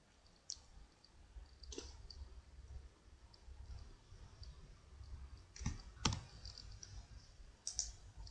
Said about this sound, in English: Click on start button